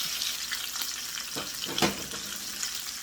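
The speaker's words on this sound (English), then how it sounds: "So just make sure every piece of meat of your sausage is laid out in the pan in order for browning." Sausage pieces sizzle and fry steadily while browning in a pan, a continuous close crackle with a couple of brief louder bursts, no talking.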